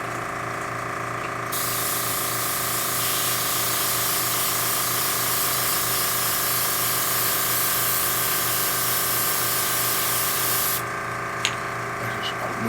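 An airbrush spraying paint onto Eldar model defence walls gives a steady loud hiss that starts abruptly, holds for about nine seconds and cuts off, over a constant compressor hum.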